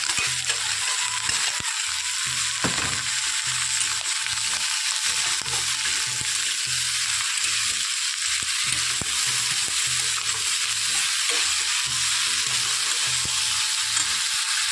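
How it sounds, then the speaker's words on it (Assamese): Spices such as chili powder, turmeric and salt fry in hot oil in a pan, a steady close hissing sizzle with occasional stirring scrapes and clinks, continuous and alone with no talking. "জলকীয়া গুড়া আৰু হালধি নিমখ এইখিনি দি মই অলপ সময় ভাজিম"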